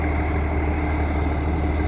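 A Ford F-250 pickup with a swapped gas engine idles nearby in Florida, a steady low rumble that holds evenly for the whole stretch with no talk over it.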